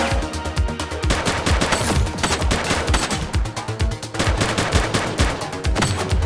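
Rapid, continuous gunfire in The Precinct police video game: dense bursts of overlapping shots with heavy low thumps, loud and sustained for several seconds without pause.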